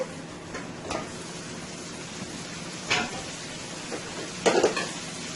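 Steady frying sizzle with a broad hiss as chicken cooks in a pan, broken by a few clinks and scrapes of utensils against the pan.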